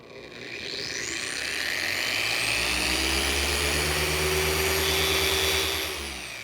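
A Torque dual action car polisher spins freely with no pressure applied while detailing an Aston Martin DB9, giving a loud, steady motor whine with a smooth rise and fall at the ends.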